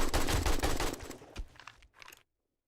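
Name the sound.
AK rifle gunfire in video game Resident Evil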